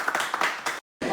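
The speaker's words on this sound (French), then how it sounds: "Applaudissez-les, même." Brief burst of applause from a group welcoming a team, dense clapping that cuts off abruptly, then resumes after a short silence.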